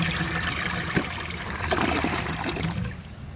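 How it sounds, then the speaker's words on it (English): An AquaSource toilet from the 2000s flushes as a steady, close rush of draining water runs through the bowl for several seconds, with gurgling swells and trickles and no voices. "let's give this another flush and see if it can rid itself of the rest of that dirt"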